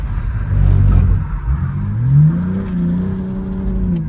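A drift car engine revs up with a rising, wavering pitch, loud and close, climbing then holding steady as it pulls away.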